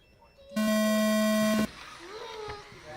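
A single loud electronic start tone at an RC car race night, a steady pitched beep lasting about a second, followed by faint motor whine and background chatter.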